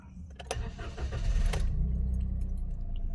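A Perodua Axia being started with a check engine light on, a brief clicking and key jingle, then the engine cranks and catches into a steady low idle.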